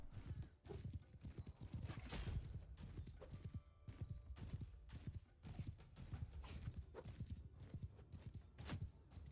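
Many horses gallop in Bannerlord with steady overlapping clip-clop hoofbeats, a cavalry charge passing close with occasional whinnies and no talk.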